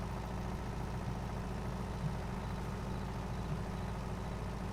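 A tractor engine idles steadily in Farming Simulator 22, a constant low droning rumble with no change in pace, heard alone at moderate level throughout.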